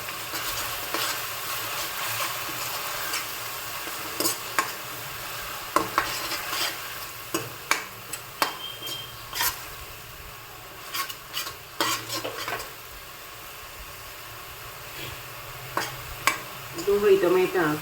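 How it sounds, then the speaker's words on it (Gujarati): Onion, tomato, ginger and chilli paste sizzles steadily in a pan while a spoon stirs and scrapes it in repeated sharp clatters, close and moderately loud, with no talking. "ડુંગળી ટમેટા આદુ મરચાંની પેસ્ટ સંતળાઈ ગઈ છે"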